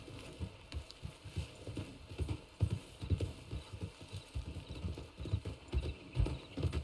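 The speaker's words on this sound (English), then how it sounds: "Look, it's one of them wild horses." Wild horse hooves clip-clop through the Red Dead video game world, a steady, fairly close trotting rhythm of soft thuds with no talk over it.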